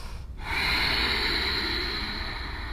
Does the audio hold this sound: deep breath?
yes